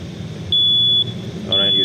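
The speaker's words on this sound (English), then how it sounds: "you see alarm is coming" A Furuno ECDIS navigation system alarm sounds as a steady high electronic tone, switching on and off in long beeps over a low background hum.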